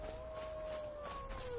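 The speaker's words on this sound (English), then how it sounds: "I hate it when I hear wolves." Wolves howl in the Skyrim video game, long wavering tones that slowly fall in pitch, heard faintly and at a distance over a low game background.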